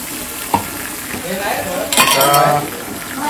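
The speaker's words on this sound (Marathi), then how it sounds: "इकडे एका साईडला बॅटर 2-3 मिनिटं जरा त्याला फ्राय करून घ्यायचं।" Potato-vada batter fries in oil in a pan, a close, continuous sizzle with a sharp utensil knock early on and a louder scraping stir partway through.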